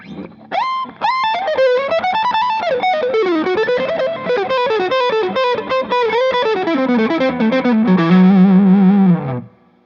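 A fast distorted electric guitar metal lick using a diminished shape and the Kokin-Choshi pentatonic scale, with bending, sliding notes, played loud and continuous for several seconds before ending on a sustained low note.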